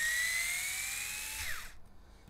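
A small power tool whirs at high speed while an HPI Venture SBK RC kit is put together, a steady whine that winds down and stops after about a second and a half.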